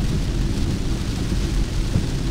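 Heavy rain drums steadily on a Ford Mustang Mach-E during a snowy mountain road trip, a dense, loud, unbroken roar of water hitting the car with no voices.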